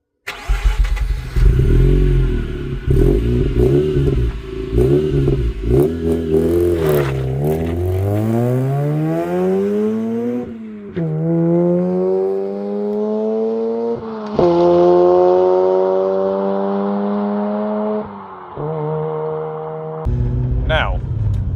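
A Mazda RX-8 with a rotary engine drives past, its engine pitch climbing and falling through several gear changes, loud and close throughout.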